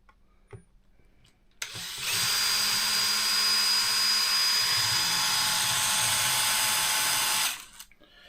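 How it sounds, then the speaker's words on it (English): A full-size power drill whirs steadily at full speed for several seconds while driving a long screw on an HPI Baja 5T RC car, loud and close, then winds down and stops. "We are using a full-size drill today"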